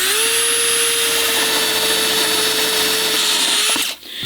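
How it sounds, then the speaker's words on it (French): A power drill bores through a wooden deck board on a pool terrace build, whining loudly and steadily at one pitch before cutting off abruptly near the end. "Seb il va percer la lame et ensuite on va venir insérer le petit spot"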